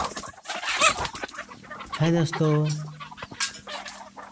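Desi hens on a small backyard farm cluck and squawk up close, with one drawn-out call in the middle, while someone talks over them.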